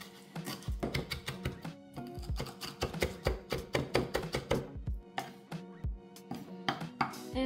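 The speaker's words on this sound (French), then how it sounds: "Maintenant, je vais hacher les persils." A knife chops parsley on a cutting board in a home kitchen, a rapid run of sharp, close, loud taps in quick bursts with short pauses between them and no talk over them.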